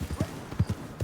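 Horse hooves clip-clop in Red Dead Redemption 2, a brief run of soft, close, rhythmic thuds at a quiet walking pace.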